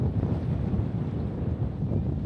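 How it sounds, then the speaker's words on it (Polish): A boat crosses Lake Titicaca carrying a motorcycle, heard as a steady low engine rumble and water rush blended with heavy wind buffeting the microphone. "i tak sobie płyniemy przez Titicakę"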